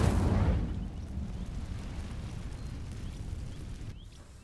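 Incendio fire spell cast in the Hogwarts Legacy video game: a loud, sudden fiery burst right at the start that quickly falls away into a low, steady rumble for the rest of the moment.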